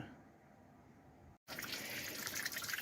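A garden hose runs water slowly through the engine water jackets and ports of a 1955 Chevy Bel Air small-block V8 during a cooling-system flush. After a brief gap, a steady, close rushing and splashing follows.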